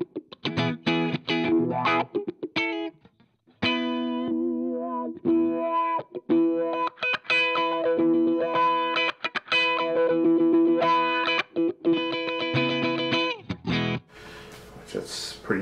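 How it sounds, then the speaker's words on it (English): An electric guitar on a pedalboard plays riffs through a wah pedal with distortion and reverb, giving sweeping, vocal-like tone shifts across a run of loud, choppy phrases that ends in a short burst of noise. "I can be playing and just randomly throw in some wah sounds"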